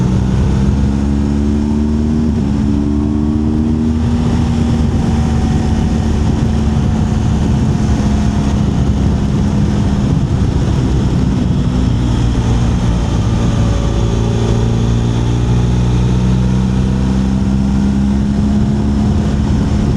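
A motorcycle on Dunlop Mutant tyres rides a wet, greasy autumn road in the rain, its loud, continuous engine drone rising and falling in pitch amid rushing road and wind noise.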